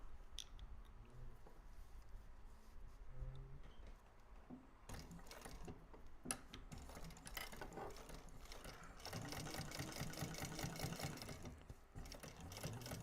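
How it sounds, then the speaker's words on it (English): A sewing machine top-stitching a bag lining gives a steady mechanical whirr and rattle of the needle, pausing briefly and then running faster and louder toward the end, close by with no talk. "Okay, so now we are going to top stitch here."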